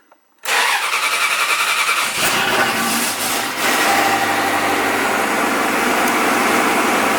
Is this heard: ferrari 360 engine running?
yes